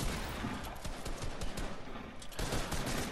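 Rapid bursts of gunfire crackle in a Fortnite match, a dense stream of overlapping shots and impacts, loud and close with a short lull before resuming.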